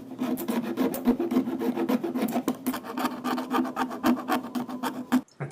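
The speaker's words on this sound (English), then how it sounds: "you're going to want to use a file to start smoothing these out" A hand file rasps back and forth over coarse plastic lightsaber parts, producing steady, close, rhythmic strokes that continue for several seconds before a brief pause at the end.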